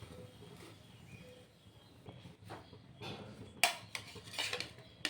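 Pieces of rohu fish are placed one by one into a pan of yogurt spice mixture for a Bengali fish curry, giving soft, faint clinks and light clatter that sharpen toward the end.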